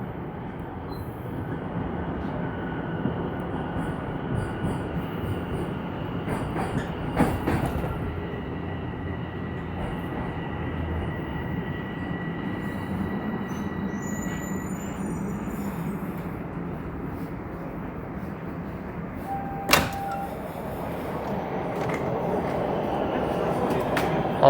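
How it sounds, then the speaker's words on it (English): A Toronto subway train ride arriving at Eglinton Station, with a continuous rumble of the car rolling along the tracks, a thin whining tone, and a sharp clunk near the end. "rudely interrupted by that train ride"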